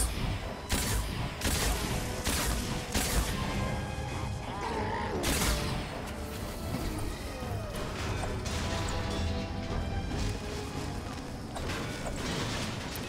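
Gunfire in the video game Fortnite, a series of loud sharp shots and crashing impacts spread irregularly across the stretch, with mechanical clatter between bursts and no talking.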